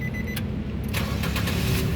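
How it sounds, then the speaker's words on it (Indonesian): A 2011 Nissan Grand Livina 1.5 XV automatic with about 136,000 km is started: a few key clicks, then the starter catches and the engine comes to life with a steady idle, close by. "sekarang kita coba langsung start mobil ya"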